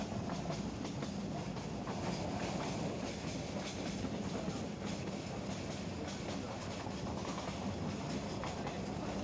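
Passenger train running on rails on the Dhaka to Sylhet journey, a continuous rumbling roll heard from inside the carriage with faint rhythmic clatter of wheels, steady and moderately loud.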